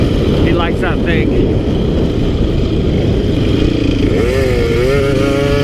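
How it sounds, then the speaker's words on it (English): A KTM 50 two-stroke youth motorcycle rides nearby with a steady, buzzing engine note that rises and falls in pitch. Someone talks loudly over the engine for most of the clip. "The Kato KTM 50 right here. Little two-stroke."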